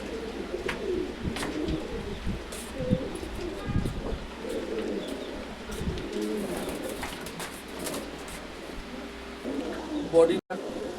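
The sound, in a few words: American Lakka pigeons cooing at a pigeon farm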